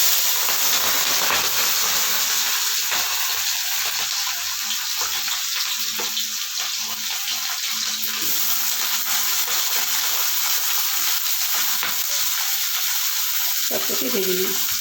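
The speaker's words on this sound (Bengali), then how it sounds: "দেখো বলে তেলটা গরম হয়ে গেছে। এবার আমি বিনসগুলি ভেজে নেব।" Beans frying in hot oil, a dense, steady hiss and crackle close by throughout, with a faint voice near the end.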